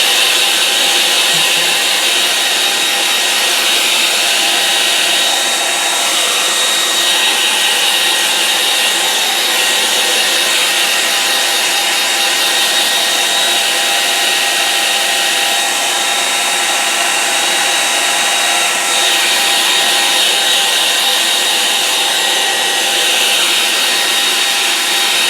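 A hair dryer blows steadily and loudly on a watercolour painting of a brook, a continuous close-up whooshing hiss that holds at an even level for the whole stretch with no talk.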